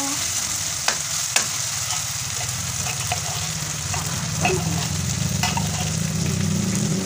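Ground pork frying in a pan, a steady close sizzle with occasional stirring clicks and scrapes, no talking.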